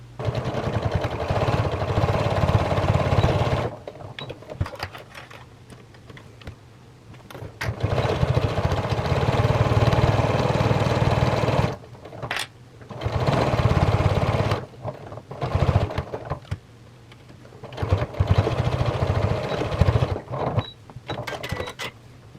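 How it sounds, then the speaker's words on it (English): A sewing machine stitches fabric seams along the short and long sides, running loud and close in steady whirring bursts separated by brief stops. "we're going to take it over to the sewing machine, and we're going to sew up the short side and down the long side"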